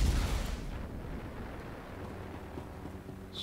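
Turrets firing in the Star Wars: The Old Republic video game, a heavy booming blast at the start that decays into a rumbling tail, followed by faint further shots and a sharp burst at the very end.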